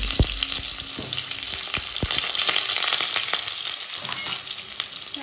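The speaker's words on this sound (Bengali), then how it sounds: "লাল লাল করে আলুগুলোকে বেশ ভেজে নিতে হবে।" Potatoes frying in a pan for vegetarian biryani crackle and sizzle close up, with occasional scraping knocks from stirring, loud and steady and with no voices.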